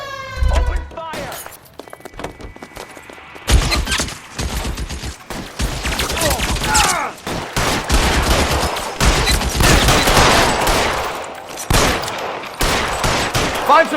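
Gunfire in a shootout in the video game L.A. Noire, loud rapid bursts and scattered shots mixed with sirens and shouted voices, continuing densely throughout.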